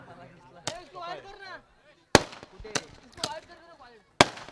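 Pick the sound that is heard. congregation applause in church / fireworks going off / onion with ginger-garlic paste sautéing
fireworks going off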